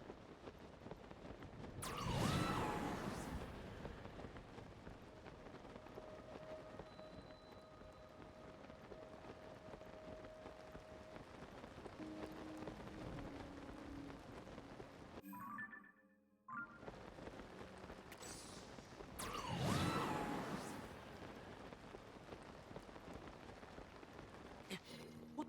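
Rainfall in the video game Zelda: Tears of the Kingdom, a constant soft hiss of falling drops over about twenty-five seconds, swelling twice into louder whooshing bursts, with one brief silent gap partway through.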